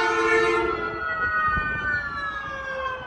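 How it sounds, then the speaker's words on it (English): A siren wails loudly with strong harmonic tones that sweep downward as the vehicle passes, fading slightly toward the end; no talking. "That's an ambulance or something."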